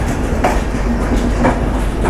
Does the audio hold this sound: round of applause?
no